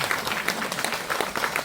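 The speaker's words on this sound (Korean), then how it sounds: "박수 안 쳐요?" A crowd at a forum lecture breaks into brief, dense applause, with many hands clapping loudly and steadily throughout the short burst.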